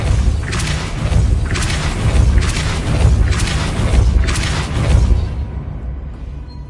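The Depulso spell is cast repeatedly in the video game Hogwarts Legacy, producing five loud, regular booming thumps with whooshing bursts about a second apart before the sound fades.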